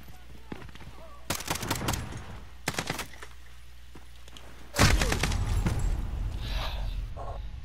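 AK rifle fire in a first-person shooter video game comes in loud, rapid bursts, with two short volleys early on and a longer sustained stretch of shooting that starts sharply and continues to the end.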